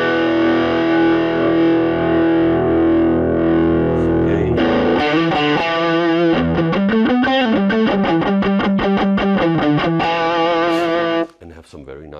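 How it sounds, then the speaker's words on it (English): Distorted electric guitar through a Kemper Profiling Amplifier on a Fender Twin profile, with treble, middle and presence boosted for a chunky yet nasal tone; a held chord rings, then a loud run of rhythmic chugging chords, cut off abruptly at the end. "have some very nice chunky sound here, but still with the nasal typical Fender twin character"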